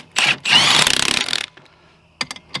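A ratchet torques lug nuts on a mini jeep wheel: a loud whirring burst with rapid rhythmic clicking, then a pause and a few sharp, separate clicks close by.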